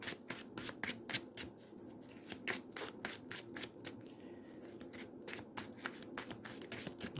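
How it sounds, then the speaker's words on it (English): A deck of cards from the Marvel Champions card game is riffle-shuffled close up, giving a rapid run of crisp flapping bursts in quick repeated cycles with no talking. "let's shuffle this and then deal ourselves an encounter card."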